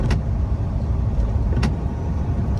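Car driving through a heavy April winter storm on a single-lane road with about 20 centimetres of snow at roughly 50 km/h, a steady close interior road rumble with two brief sharp clicks or thumps over it.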